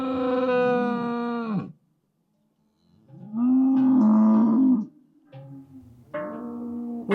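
Several long, loud cattle moos with pauses between them, close by, as cows come down from the Swiss Alps; no clear bell tinkling stands out.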